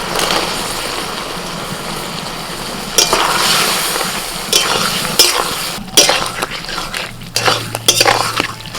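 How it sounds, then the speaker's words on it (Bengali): Fried shrimp and potatoes go into spiced masala in a pan and sizzle loudly while being stirred, with repeated scraping and clinking of a spoon against the cookware in uneven bursts close by. "মশলা কষানো হয়ে গেছে এবার ভাজা চিংড়ি মাছ আর আলুটা দিয়ে দিচ্ছি"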